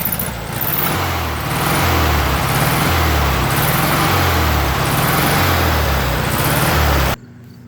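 Interior engine and road noise from a 1969 Volkswagen Karmann Ghia on a test drive, a loud, steady rumble with rhythmic engine pulsing that cuts off abruptly near the end.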